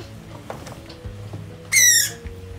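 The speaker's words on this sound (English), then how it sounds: "So this is a male cardinal." Male northern cardinal held in the hand at a mist-netting and banding demonstration, giving a single brief, loud, sharp call near the end over faint background noise.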